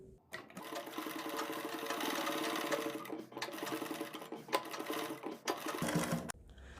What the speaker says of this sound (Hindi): इसके बाद हम बुकरम के बराबर पूरी सिलाई को कंप्लीट करेंगे